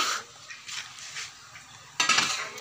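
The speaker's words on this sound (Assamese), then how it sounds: "এইটো পচলা ভাজি বনাই আছে" A utensil scrapes and clinks against a pan while banana stem stir-fries, several metal strokes close by with a louder clatter near the end, faint crackle beneath and no speech.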